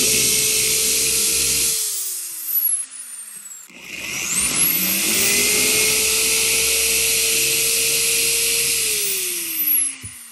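Drill boring holes into cork board, a steady high whine that winds down, pauses, then spins back up for a second long run, close and loud.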